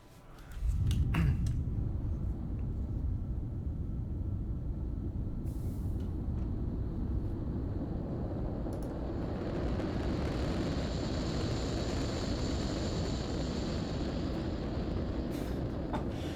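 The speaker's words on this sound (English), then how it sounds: "Alright, let's launch the rocket." A rocket launches in the factory-building video game Factorio, a loud, steady, broad roar that swells in after a sharp start and holds for the whole stretch, with a few faint clicks on top and no talk.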